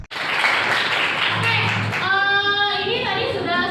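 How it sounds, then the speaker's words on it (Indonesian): Classroom applause for a student group's presentation, a dense steady wash of many hands clapping close by for several seconds, with a voice speaking over it toward the end. "tepuk tangan untuk teman kita Yufi"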